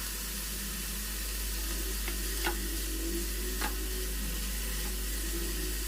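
Capsicum joins onions and carrots stir-frying in oil in a kadai. A soft, steady sizzle continues throughout, broken by a couple of distinct scraping strokes from the spatula.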